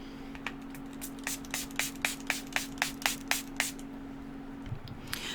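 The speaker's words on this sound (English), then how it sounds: "I'm going to spray my face down with this" A Kokie Fix It Up Mini Matte Setting Spray is pumped repeatedly onto a face at close range, about a dozen quick, evenly paced misting bursts in a quiet room, then a soft handling noise.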